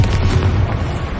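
A Confringo spell explodes in Hogwarts Legacy, a short, loud, deep boom with a rumbling low-end burst that fills the whole moment.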